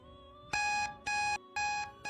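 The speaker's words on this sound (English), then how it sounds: "Beep, beep, beep." Electronic alarm beeping in a series of four loud, evenly spaced tones, the last one cut short, with a quiet background between the beeps.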